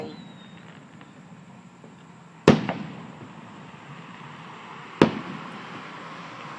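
Fireworks bursting at an early Fourth of July show at Briarwood Country Club, two sharp distant booms a few seconds apart, each with a short echoing tail over quiet outdoor ambience.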